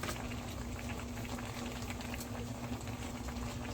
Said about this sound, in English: once our cream comes to a boil, we're gonna add the potatoes